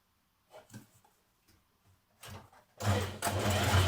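A domestic sewing machine stitches a dress seam, starting with a few short bursts and then running in a loud, steady whir from near the end onward.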